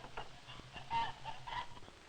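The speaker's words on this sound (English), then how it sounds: "His chickens are Rhode Island Reds." Rhode Island Red chickens on a poultry farm cluck in short, scattered bursts, fairly faint and at a slight distance, with a soft background hiss from an old recording.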